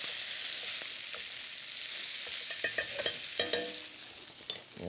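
Pork sizzles and fries in a hot pan with a steady hiss while it is basted. Spoon scrapes and clinks come through close and clear, with no voices.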